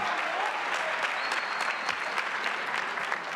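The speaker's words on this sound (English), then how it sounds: "I think we need to do one more round of applause to celebrate our graduates." Sustained applause from an audience at a spring commencement celebration for graduates, even and continuous clapping with a few sharper claps standing out, lasting a few seconds.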